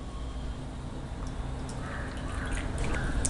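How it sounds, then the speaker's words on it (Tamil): Water poured into a measuring cup to 240 ml while an herbal kabasura kudineer decoction is being prepared, heard as a soft trickling and dripping that grows slightly toward the end, with no talking. "240 ml நான் ஊற்றுறேன்."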